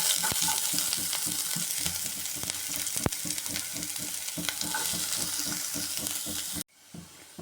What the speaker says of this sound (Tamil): இப்போ எண்ணெய் நல்லா சூடாயிடுச்சு. இப்போ நம்ம கட் பண்ணி வச்சுருக்க வெங்காயத்தை சேர்த்துக்கிறோம்.